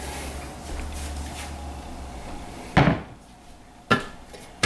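Heavy clanks from a number 12 Birmingham Stove Range cast iron Dutch oven being handled, two sharp metallic knocks close by with a short ring after each, over a low steady background hum.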